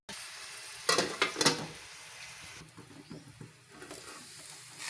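Onions sautéing in a pan for a meal maker (soya chunk) curry, a soft steady sizzle with a few louder scraping stirs early on, then a quieter continuous frying hiss.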